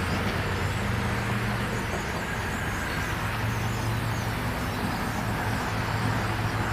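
Steady roar of road traffic, with continuous low engine rumble and vehicles passing nearby throughout, no voices, outdoors near a starling murmuration.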